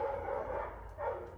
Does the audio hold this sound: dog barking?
yes